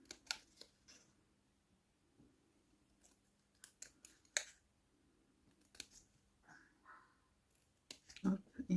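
Scissors snip through squares of paper for a scrapbooking birthday calendar, a series of crisp, close cuts spaced irregularly, with quiet rustling between them and a louder burst of snips at the end.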